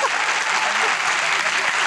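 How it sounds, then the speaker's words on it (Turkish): A television studio audience claps in a steady, dense burst of applause that stays loud throughout the short stretch. "Bu alkış ne biliyor musun?"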